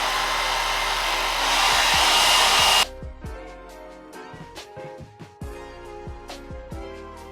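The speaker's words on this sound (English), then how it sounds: "then I'll just like blow dry it and put it in shape" A handheld blow dryer drying a man's thin hair roars loudly and steadily for about three seconds, then cuts off, leaving quiet handling and brushing noises with no talk.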